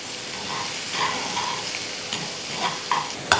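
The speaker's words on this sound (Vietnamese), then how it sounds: "Mình phi cho hành với tỏi vàng thơm lên ha." Onion and garlic fry in butter with a soft, steady sizzle, punctuated by occasional stirring scrapes.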